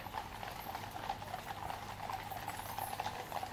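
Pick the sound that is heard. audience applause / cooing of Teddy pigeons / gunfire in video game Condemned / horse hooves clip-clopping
horse hooves clip-clopping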